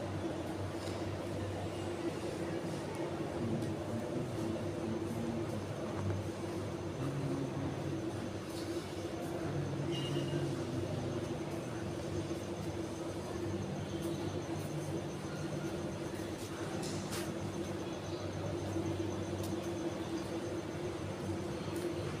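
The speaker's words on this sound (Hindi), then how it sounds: "तो आप देख सकते हैं मेट्रो में आ चुके हैं हम।" A quiet, steady rumble and hum inside a moving Jaipur Metro train car, continuous low droning with faint rattles and no talking.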